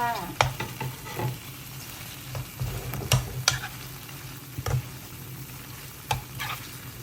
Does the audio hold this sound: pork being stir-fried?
yes